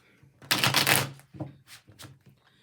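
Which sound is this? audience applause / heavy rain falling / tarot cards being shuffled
tarot cards being shuffled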